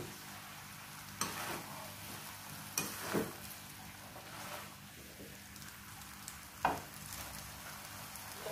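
Vegetarian noodles tossed with already-fried carrots in a hot pan, a continuous sizzle broken by several sharp scraping stirs and clatters from the utensil.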